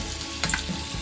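Sylheti jaggery sandesh, a sweet fried pitha, bubbles in hot oil with a constant dense sizzle and a brief louder crackle midway, close up and without voices.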